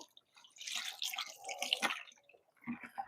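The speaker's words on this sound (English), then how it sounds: "We're going to wash those pellets off" Collected rainwater pours and splashes over pellets in a container, a close, soft trickle and drip that swells and fades in short bursts with no talking.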